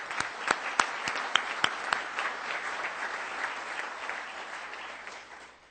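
Applause from the audience at a Rotary Club of Tulsa meeting, a steady wash of many hands clapping with a few sharp, close claps standing out early on, then gradually thinning and fading toward the end.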